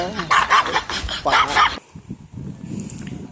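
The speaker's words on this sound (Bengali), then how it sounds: "একটা কুকুর আছে ছোট্ট একটা বাচ্চা" A tiny puppy gives a few quick, faint barks at close range, partly buried under loud talking that breaks off midway.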